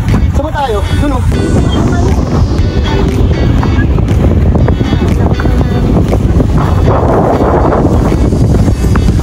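Strong wind buffeting the microphone on a Philippine beach, a constant loud roar with ocean surf beneath it and people's voices breaking through.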